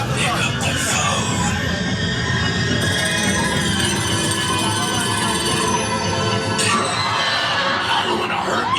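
A telephone rings aboard a haunted tram tour during Halloween Horror Nights at Universal Studios Hollywood, its bell partly buried under loud, dense crowd and vehicle noise, with voices talking throughout.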